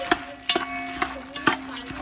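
Fox nuts (makhana) stirred while roasting in desi ghee in a pan, with a steady soft sizzle and several sharp scraping and clinking strokes of the spoon at irregular intervals, close up, no talking.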